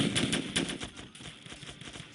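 Rapid gunfire in the video game Warfare aimed at the crew of a BTR-70 armoured vehicle, a fast rattling burst of shots that holds steady and then thins out toward the end.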